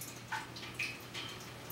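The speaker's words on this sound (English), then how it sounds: "Next nut, here comes the water. Water's coming out, see that?" Water drips and trickles from a loosened nut on a boiler sight-glass fitting, a few faint, quiet droplets landing in an otherwise hushed space.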